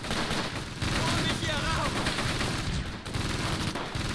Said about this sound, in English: Mortars are falling.